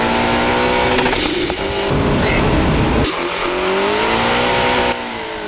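A turbocharged Toyota GT86 engine revs hard while tyres squeal and skid in long sliding bursts during street drifting, loud and close, with no talking.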